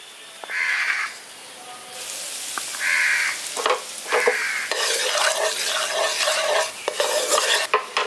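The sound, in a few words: turmeric and chili powder frying in oil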